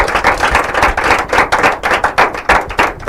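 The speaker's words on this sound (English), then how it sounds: "If you know they have, then applaud them." An audience at an inter-collegiate quiz and debate competition claps for the contestants in a steady burst of close, dense applause with rhythmic hand claps, and no talking over it.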